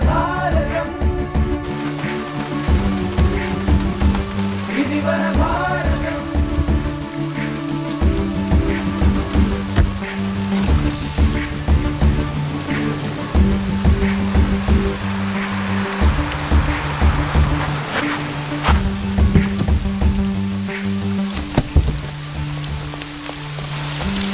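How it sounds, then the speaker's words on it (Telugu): Steady rain falls at night, a continuous patter on surfaces heard throughout under a sustained music score, with no voices. "రాజమ్మా ఏంటమ్మా ఈ వర్షంలో ఈ రాత్రిపూట ఏంటి"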